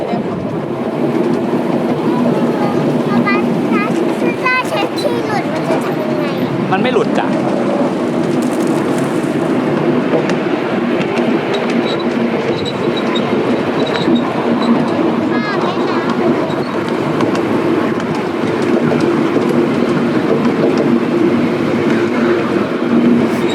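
A miniature ride-on train at Rabbit Hole in Phuket rumbles and clatters along steadily and close by, its rhythmic clacking continuing throughout with people talking over it.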